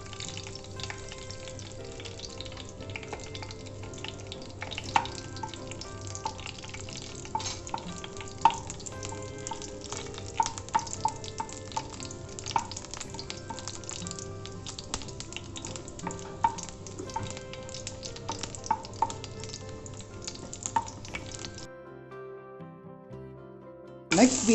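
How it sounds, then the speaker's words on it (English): Three crushed red chilies fry in hot oil in a pan, a steady dense sizzle and crackle that runs unbroken for about twenty seconds before dropping away, with faint scrapes now and then. "So now our oil is hot and we need to add the 3 red chilies that we have crushed and placed in the pan."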